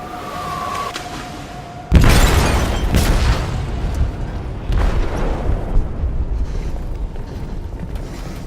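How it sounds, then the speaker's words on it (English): A heavy explosive blast goes off in a ship's hold in the Detroit: Become Human video game, a sudden loud boom after a quiet stretch with a faint tone, then a long rumbling roar and debris crashes that stay strong to the end. "They detonated an explosive in the hold."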